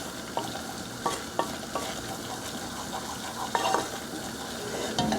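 Butter and flour roux cooking down in a pan, a soft steady bubbling sizzle punctuated by a handful of light utensil taps and stirring scrapes, no one speaking.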